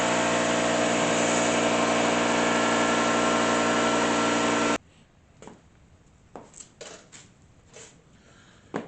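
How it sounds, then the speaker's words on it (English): A workshop air compressor roars steadily and loudly for about five seconds, then cuts off abruptly, leaving a quiet room with a few faint knocks and clicks. "an air compressor kicks in when you're in the middle of a video"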